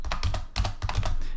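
Quick keystrokes on a computer keyboard while code is entered, a steady run of fairly close clicks with no pauses.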